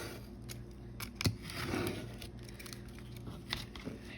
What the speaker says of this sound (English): I want to go on the inside of the fold line and just cut it straight across